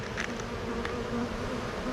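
Bees buzz steadily inside a crack in a hive, a dense continuous drone close by with no voices.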